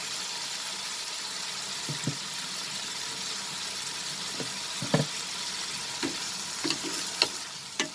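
Chicken sizzles steadily in a pan over a high flame for a cheese omelette, a constant frying hiss with occasional light stirring clicks and pops.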